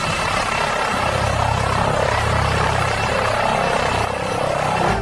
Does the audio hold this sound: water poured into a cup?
no